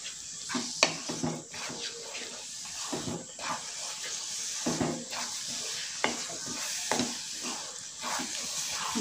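Rava mixture for pineapple laddu stirred in a pan, a scraping, swishing spoon-on-metal rhythm with soft hissing, close up, while someone talks over it.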